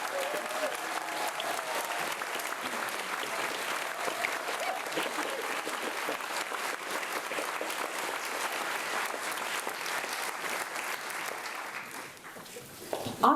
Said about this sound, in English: so that we can all thank you with a round of applause